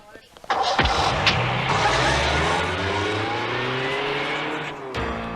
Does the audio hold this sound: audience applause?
no